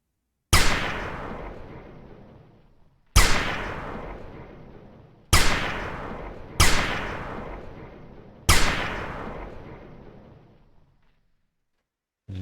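Five loud, sharp gunshots spaced a few seconds apart, each with a long decaying reverberant tail, from a first-person multiplayer shooter game built in Unreal Engine 4, landing headshots on a target.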